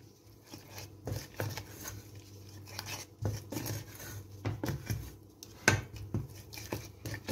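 A spoon works through a thickening cherry compote with pectin and cornstarch, giving soft scraping and tapping against the pot in irregular, close, fairly quiet strokes.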